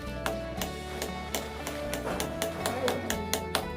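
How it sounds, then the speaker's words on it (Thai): A loose-headed hammer knocks repeatedly in a kitchen workshop setting, its head working free, giving sharp uneven taps spaced through the clip over a busy background with music-like tones. "เคาะสองทีหัวค้อนหลุดเลย"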